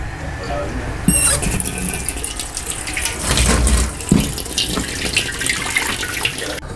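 Tap water running steadily into a sink while bones for bakso are washed, a loud close splashing rush with clinks and knocks, and people talking over it.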